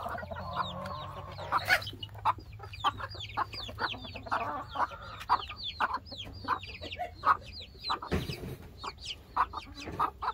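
Domestic chickens cluck and squawk in quick, agitated bursts while scuffling over a chick, the calls close and fairly loud over a low steady background hum.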